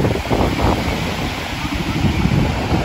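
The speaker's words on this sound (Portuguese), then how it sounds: "E esse barulho do mar é maravilhoso," Sea waves wash onto a beach in Ubatuba near rocks and a small lagoon, a loud continuous roar of surf with buffeting wind noise across the microphone.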